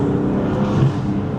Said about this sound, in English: Very smooth. I like the pop and cracker.